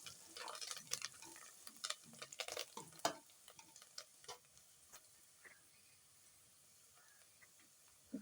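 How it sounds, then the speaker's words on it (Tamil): Coriander leaves fry in a pot for mutton biryani, with quick spatula scrapes and ticks clustered early, then thinning out to a faint, quiet sizzle. "இது கூடவே வந்து மல்லித்தழையை போடுங்க மல்லித்தழை போட்டு நல்லா ஃப்ரை பண்ணணும்"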